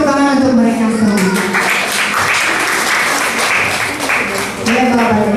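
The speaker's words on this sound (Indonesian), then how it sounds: "Beri tepuk tangan untuk mereka semua." Church congregation clapping together in a worship service, steady applause over a low sustained musical tone or hum, filling the room without pause.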